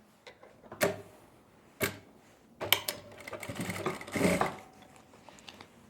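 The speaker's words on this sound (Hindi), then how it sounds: "अब हमें उल्टी तरफ ही रखे हुए इस पे सिलाई लगानी है" A sewing machine stitches elastic onto palazzo pants in quick, uneven bursts of mechanical clatter, with quiet pauses between runs while the fabric is pulled straight.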